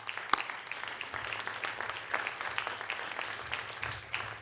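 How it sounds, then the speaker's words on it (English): Audience applause at a law school moot court final round, a continuous patter of many hands clapping at moderate loudness, fairly even throughout with a sharp clap near the start. "So let's give a round of applause to Mark."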